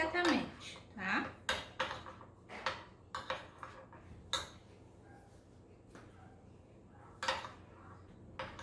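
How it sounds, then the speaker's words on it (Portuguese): A utensil scraping and clinking against a pot while melting chocolate is stirred for Easter treats, repeated irregular metallic knocks and scrapes up close, with occasional voice sounds in between. "Agora eu vou mexendo até ele se derreter completamente"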